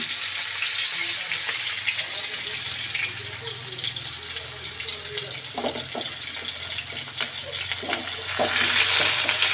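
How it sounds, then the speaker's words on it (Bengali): Fish frying in oil in a wok gives a loud, continuous sizzle, with stirring clatter and watery bursts rising near the end. "এই তো কড়াইতে মাছ দিয়ে দিয়েছি মাছগুলোকে ভেজে নিব"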